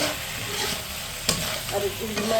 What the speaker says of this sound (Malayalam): ഇത് ചെറുതായിട്ട് ഇങ്ങനെ ഇളക്കി കൊടുക്കും